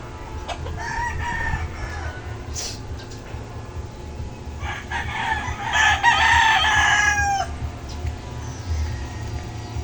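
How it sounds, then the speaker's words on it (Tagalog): A rooster crows loudly nearby, with scattered clucking and other fowl calls over a low rumbling background. "Ang manok ni San Pedro, na pula ang balahibo."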